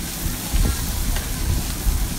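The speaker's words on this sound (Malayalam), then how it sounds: "ടീസ്പൂൺ മഞ്ഞൾപ്പൊടി അതുപോലെ തന്നെ ഗരം മസാല കൂടി ഇട്ടിട്ട് നന്നായിട്ട് ഒന്ന് യോജിപ്പിച്ച് കൊടുക്കാം" Turmeric powder and garam masala being stirred and fried in a pan while making clam meat cutlets, a steady close sizzle with scraping stirs running throughout.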